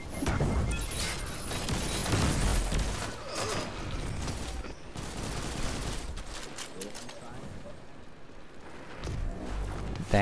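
Repeated gunfire bursts in a Destiny 2 PvP match, including sniper rifle shots, crackling loudly and almost continuously with impacts and mechanical clatter, while players talk over the fighting.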